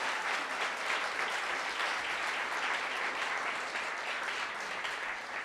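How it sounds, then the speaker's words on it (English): Sustained applause from an audience at a NYC School of Data livestreamed event, thanking the organizers; dense, steady clapping fills the whole stretch without a break. "Can we give them a round of applause?"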